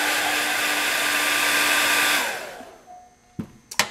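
Hair dryer drying a coat of stretch and stipple makeup on a young model's skin, running loud and steady before winding down, followed by a couple of handling clicks.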